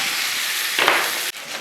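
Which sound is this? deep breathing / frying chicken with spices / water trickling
frying chicken with spices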